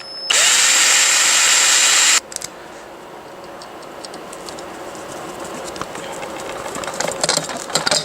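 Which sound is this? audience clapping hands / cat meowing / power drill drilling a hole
power drill drilling a hole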